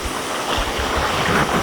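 Steady rushing water from a stream at Tado Falls, Japan, flows continuously, a broad close wash of stream noise with no voices.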